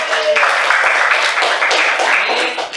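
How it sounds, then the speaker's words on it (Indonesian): A classroom group claps at the end of a teaching session, a loud, dense burst of applause that holds steady for a few seconds and fades slightly at the end. "beri tepuk tangan"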